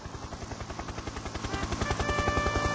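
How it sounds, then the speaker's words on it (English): A model toy helicopter's rotor thumps in a steady rapid rhythm, growing louder as it approaches. "Just then, Harold the helicopter arrived."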